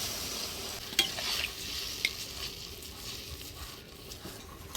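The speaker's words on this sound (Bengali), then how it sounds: "অল্প করে ঝোল দিয়ে দিলাম" Broth poured over radish, eggplant and potato in a pan for a fish curry, giving a soft continuous sizzle and bubbling with a couple of brief clinks, fairly quiet.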